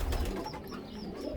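Sport pigeons in a loft aviary coo softly, a few low rolling calls close by and fairly quiet, with no one speaking over them.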